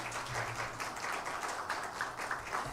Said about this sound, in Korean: 은혜로운 찬양해 주신 성가대원들에게 다시 한번 감사의 박수하겠습니다.